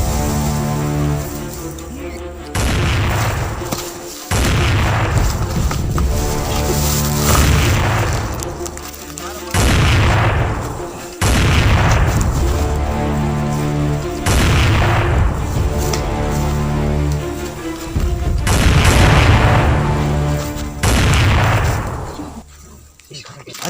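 Loud gunshots in a rustic Awadhi comedy skit about police and a bandit, booming out one after another at fairly regular intervals for the whole stretch, each with a heavy echoing tail.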